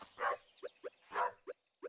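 A dog in the farming game Stardew Valley barks twice with a deeper woof, each followed by short quick yips, close and clear with no talk over it.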